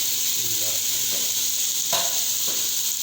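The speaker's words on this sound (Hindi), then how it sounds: "और इनको अच्छी तरह हम फ्राई कर लेंगे" Spices fry in a tomato and onion masala for chicken kofta, giving a loud, steady sizzle throughout, with a few soft stirring scrapes mixed in.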